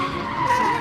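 A cartoon car skids out of control, its tires giving a short, loud, continuous squeal and screech, heard alone.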